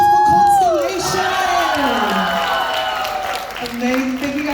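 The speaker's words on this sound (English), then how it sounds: "Can we get another round of applause for Konstellation?" A crowd cheers and shouts for the performers Konstellation at a K-pop showcase, loud sustained whoops and screams with a voice carrying over the roar.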